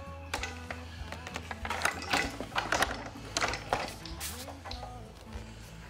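Screws on a seat being tightened with a hand tool, giving a steady run of close mechanical clicks and ratcheting rasps over a low background hum.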